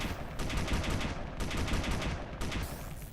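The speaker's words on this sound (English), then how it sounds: "there's a turret clearly firing on us" Turret gunfire in the space game Space Engineers sounds as a dense, continuous rattling burst of rapid shots, loud and close, with brief breaks in the crackle, and no talk over it.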